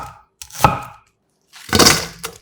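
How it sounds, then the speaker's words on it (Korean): A knife cuts a halved onion into thick strips on a board, making two distinct close chopping strokes separated by brief silence. "양파 1개도 반을 잘라 살짝 굵게 채 썰어"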